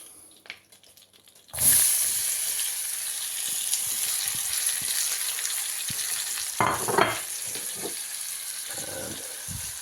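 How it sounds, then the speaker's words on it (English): Onion hits a hot pan after a quiet pause, starting an abrupt, loud, steady sizzle that carries on with a brief burst of stirring partway through, with no talk. "And then I add the onion."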